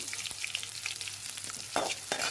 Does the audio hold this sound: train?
no